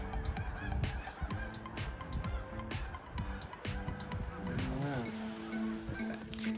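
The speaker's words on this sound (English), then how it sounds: "The Canadian geese are coming home." Canada geese honk repeatedly in a flock, their calls overlapping at moderate distance over a low rumble of traffic or wind.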